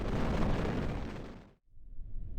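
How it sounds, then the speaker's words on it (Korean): A Hyunmoo-4 missile carrying a satellite payload lifts off as a rocket from Naro Space Center, giving a loud, sustained roaring rush of thrust that cuts off abruptly, then returns as a lower rumble. "그럼 발사해 보겠습니다."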